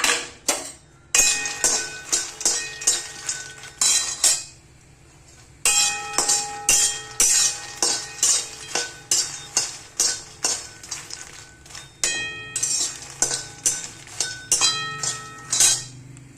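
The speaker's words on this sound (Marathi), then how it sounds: "आता हे हलकेसे मखाने भाजून घेते" Makhana (fox nuts) being dry-roasted in a pan on a fast gas flame, tossed and stirred so they tumble and clatter against the metal in repeated bursts, with short pauses between rounds of stirring.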